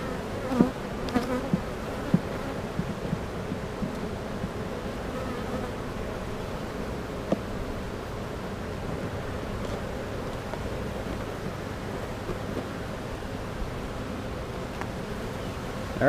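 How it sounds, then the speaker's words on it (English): Honeybees hum around an open hive in a continuous dense drone. It holds at an even level throughout, with faint scattered knocks and light wind noise, and no one speaks. "There are some bees up here."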